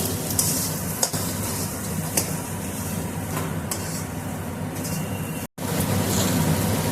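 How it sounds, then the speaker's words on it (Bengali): Chopped tomato drops into mutton masala frying in a pan, giving a steady close sizzle with scraping stirring strokes and a brief break partway through. "এবার দিয়ে দেব টমেটো কুচিটা"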